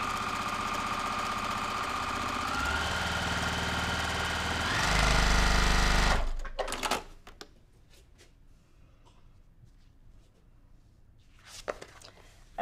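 A sewing machine stitches a quarter-inch seam on a quilt block, running loud and steady for about six seconds with a brief faster burst near the end before stopping, followed by quiet handling clicks and rustles.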